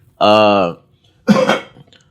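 A person coughs twice in close succession, a harsh, throaty burst followed by a shorter rougher one, loud and near with a brief pause between, in a conversation about cigarettes.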